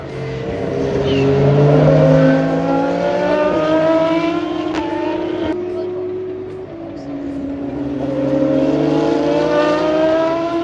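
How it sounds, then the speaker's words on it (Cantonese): An Aston Martin Valkyrie V12 race car at the WEC 6 Hours of Fuji gives a high-pitched, howling engine note that rises and falls as it passes at speed, loud but heard from trackside distance. "而最好聽嘅當然就係 Aston Martin Valkyrie 嘅 V12啊！"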